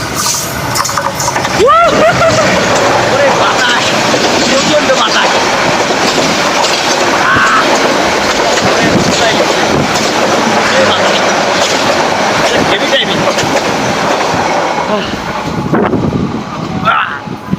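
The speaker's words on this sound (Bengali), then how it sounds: "পেছনে যে ট্রেন আসতেছে এই মুহূর্তটা একটু উপভোগ করুন" A train passes close by on the rails, a loud, steady rumble with clattering wheels that swells and holds across the whole stretch before easing near the end, with a voice faintly underneath.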